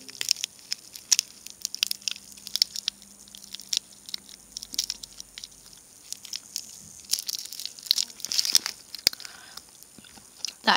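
Someone crunches and chews a hard bubblegum-flavoured sweet, producing loud, close, irregular crunches and wet chewing bursts over about ten seconds, with no talk.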